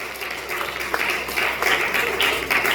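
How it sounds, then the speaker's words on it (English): An audience at a national essay competition award ceremony in Jamaica applauds as a guest is assisted forward, a moderate wash of clapping with voices in the room. "Come on, a big round of applause as she's assisted."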